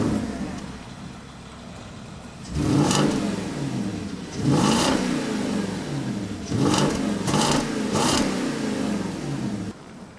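A Porsche Cayenne GTS with a 4.8-litre petrol V8 idles, then revs up several times in quick bursts, each rise and fall loud and close, settling back to a steady idle between blips.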